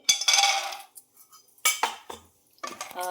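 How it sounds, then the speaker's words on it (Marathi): Almonds tossed and stirred in a hot kadhai over a low flame, giving bursts of metallic scraping and rattling clinks separated by short pauses, close and fairly loud. "मी आता आपले बदाम भाजणार आहे"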